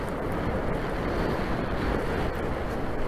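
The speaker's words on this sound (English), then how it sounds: "the wind is blowing more directly on this slope, and it's not a very smooth wind" Strong wind gusting across a hillside slope used for slope soaring on a cold day, a loud continuous roar with heavy buffeting against the microphone.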